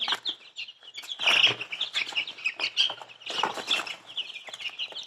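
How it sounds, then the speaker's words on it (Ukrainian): Young chicks cluck and cheep busily while pecking at eggs and greens, a close, continuous chorus of overlapping high calls with occasional louder bursts. "Я вже курчаткам, до речі, дала і яйця, і зелень. Вони тут клюють, задоволені."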